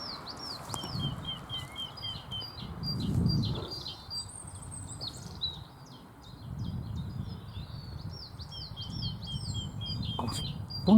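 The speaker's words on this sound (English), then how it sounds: "A lot of birds singing." Many birds sing and chirp together outdoors on a countryside nesting walk, repeated high trills and tweets layered continuously over soft wind and rustle, moderately near, with no talking.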